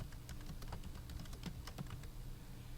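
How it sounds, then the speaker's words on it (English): Rapid, light clicking of keys on a computer keyboard as a title is typed into a Google Form, steady and quiet against a faint background hiss. "I'm going to go ahead and type in the title of our unit"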